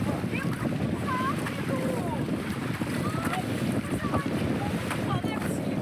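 Wind and sea while sailing an engineless canoe on open water: a steady wash of wind buffeting the microphone and lapping water, continuous and fairly loud, with no voices.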